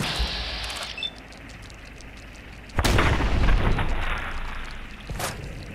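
Gunfire in Fallout 4, a few heavy booming shots with a sharp blast near three seconds and another near five, standing over a low rumbling game background.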